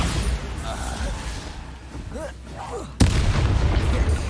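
A Bombarda spell blast goes off in the Hogwarts Legacy video game, a sudden loud burst of impact about two-thirds through, set against a busy battle din of rumbling booms and overlapping voices.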